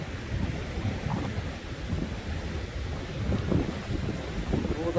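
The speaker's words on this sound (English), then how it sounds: "Listen to the sound of the waves." Sea waves wash onto the beach at Weymouth on a winter morning, a continuous rushing surf mixed with wind buffeting the microphone, with no distinct voices.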